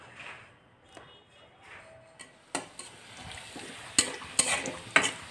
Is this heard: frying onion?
yes